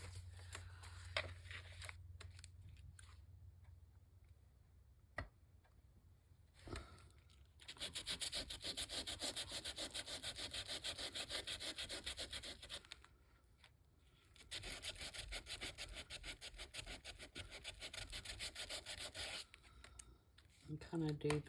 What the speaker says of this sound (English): the sanding disc